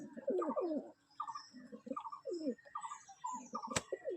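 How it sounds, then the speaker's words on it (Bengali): Pigeons scuffling inside their loft, a pair of cocks fighting, giving repeated close, rough cooing bursts and grunts in an uneven rhythm, with a sharp wing or body clap near the end. "পায়রাগুলো তো ভিতরে মারামারি করছে খুব"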